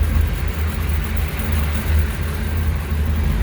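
A 1957 Chevrolet Bel Air restomod with a cold air intake sits running, its engine giving a steady, loud low rumble at idle with a slight uneven pulse, heard close up for a few seconds.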